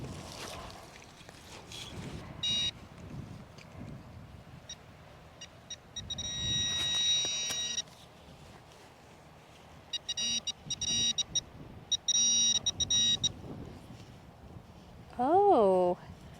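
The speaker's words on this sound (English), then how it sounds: "Pinpointer was able to get it." A metal detector pinpointer gives short electronic beeps in intermittent bursts while locating a target buried at an old house site, heard under outdoor wind and rustling.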